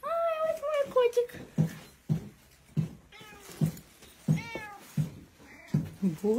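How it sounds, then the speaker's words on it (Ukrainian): A house cat meows repeatedly nearby, a string of rising and falling cries with short gaps between them, while a person talks and reacts close by. "Ай, ось мій котик."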